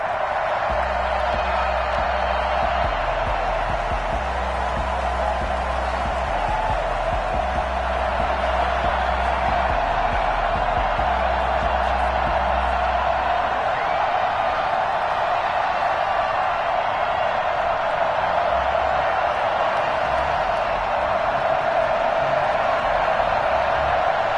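A stadium crowd roars as a steady, dense wash of noise in an EA Sports NFL video game before a Tampa Bay Buccaneers versus New York Jets matchup, with a low rumbling layer underneath for the first half.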